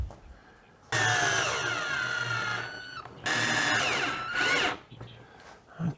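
A power drill drives screws into the wooden panels of a couch/bed box for a minivan camper conversion, in two sustained whining bursts that rise and settle in pitch, separated by short pauses, close and loud.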